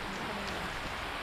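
Steady typhoon rain falling, a dense even hiss of drops with no pauses, fairly close.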